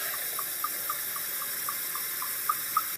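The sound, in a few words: water poured into a clear glass cup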